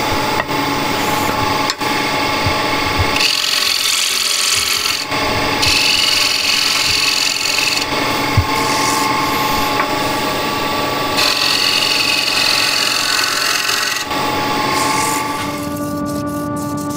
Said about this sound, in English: grab a ball gouge.